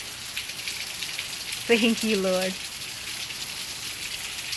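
Steady rain falls throughout as an even, broadband hiss of moderate loudness, with a voice briefly speaking a short phrase over it midway.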